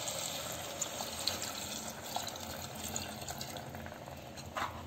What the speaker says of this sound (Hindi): अब हम इसमें पानी को ऐड करते हैं।